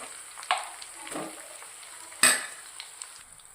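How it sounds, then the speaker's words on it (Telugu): Chicken with browned onions and turmeric sizzling in a pan over high flame while a spoon stirs and scrapes, with steady frying hiss and a few sharp clanks of utensil against the pan. "ఫ్లేమ్ని హైలో పెట్టి చికెన్ మొత్తం బాగా కలిసేటట్టు ఇలా కలపాలి."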